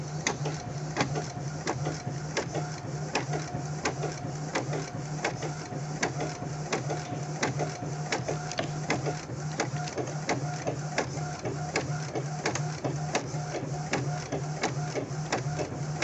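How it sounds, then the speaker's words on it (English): An inkjet printer runs steadily at close range, a constant mechanical hum with a rapid repeating clatter of the print head shuttling back and forth throughout. "You can see this how the printing process is going inside"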